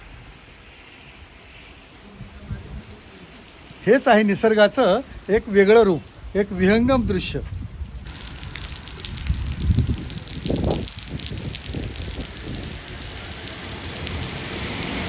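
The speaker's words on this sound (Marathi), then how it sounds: "हा आहे माळशेज घाट आणि समोर पाऊस पडत आहे" Heavy monsoon rain at Malshej Ghat, a loud, wide roar of downpour that fills the second half after someone speaks over a quieter background.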